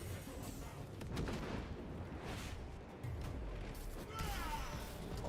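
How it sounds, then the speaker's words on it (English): Crack grenade blast in a video game, sharp loud detonation bursts with crashing debris layered over dense game noise and effects throughout. "The crack grenade deployed!"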